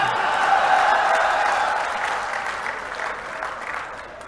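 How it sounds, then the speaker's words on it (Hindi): A crowd at a political rally addressed by Govind Singh Dotasara breaks into sustained applause, a dense, steady wash of clapping that gradually fades, with faint crowd murmur beneath. "लोग तो ताली बजावा इंसार"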